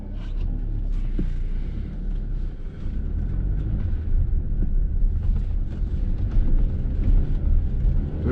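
A 2019-20 Jeep Compass Limited on a test drive gives a steady low engine and road rumble heard from inside the cabin, continuous and moderately loud throughout.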